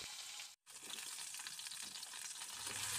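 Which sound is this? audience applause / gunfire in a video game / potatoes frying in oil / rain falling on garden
potatoes frying in oil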